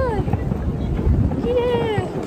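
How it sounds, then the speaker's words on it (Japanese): Strong wind buffeting a microphone outdoors at the Sumida River fireworks festival near Tokyo Skytree, a loud continuous low rumble and flutter with voices faintly heard through it. "すごい風が強い。"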